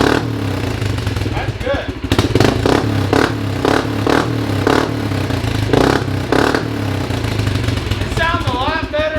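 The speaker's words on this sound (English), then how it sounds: "It sounds a lot better with the baffle out." A Kawasaki Brute Force ATV with its exhaust baffle removed revs up close in a series of sharp, loud bursts over a rumbling idle, with brief talking at the start and end.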